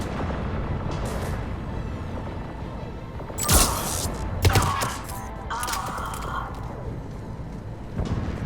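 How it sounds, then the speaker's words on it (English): Cannon fire in the Mass Effect 3 video game booms in heavy, rumbling bursts amid a constant roar of battle, with a few louder blasts in the middle and muffled game voices underneath. "Those cannons have to be stopped."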